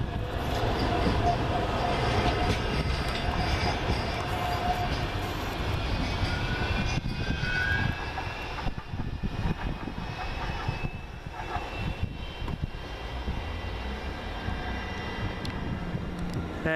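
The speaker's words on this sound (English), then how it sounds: "Should be the double trams." Two coupled trams, numbers 23 and 10, bound for East Didsbury, pass near Rochdale with a loud, rolling rail rumble and faint wheel squeals that fade toward the end.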